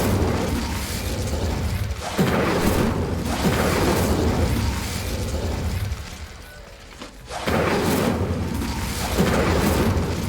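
The Incendio fire spell in Hogwarts Legacy roars as a dense, loud, rumbling whoosh of flame, sustained for several seconds, briefly dropping away around the middle before surging back strongly.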